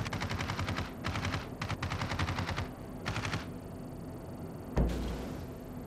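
Ship gunfire in World of Warships, rapid repeated bursts of loud close shots in rhythmic volleys with brief gaps, then a single heavier boom near the end, with no talking.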